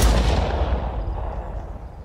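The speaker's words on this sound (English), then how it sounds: "What do I have now? Ooh, stun grenade." Stun grenade detonating in a video game, a single loud booming blast at the start that rumbles and slowly fades over about two seconds, with no talking.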